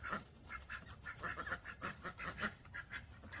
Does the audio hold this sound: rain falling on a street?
no